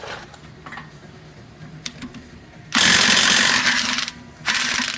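A power tool on a 32mm deep socket works at the axle nut of a Nissan 350Z, giving a loud sustained rattling hammer burst after some quieter clicks, then a second shorter burst.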